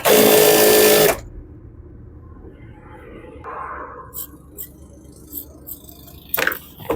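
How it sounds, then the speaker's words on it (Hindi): A sewing machine stitches the edge of a trouser fabric panel in a loud, rapid, continuous whirring run lasting about a second, then stops, followed by quiet handling sounds and light taps of cloth. "सिंगल पल्ले को इसके पहले किनारे की सिलाई लगाएंगे"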